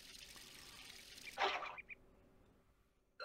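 Watering a seed in the Windows 3.1 game Captain Kangaroo – Life's First Lessons gives a short splashing pour of water, one burst with a couple of quick drips after it, alone over a faint background hiss.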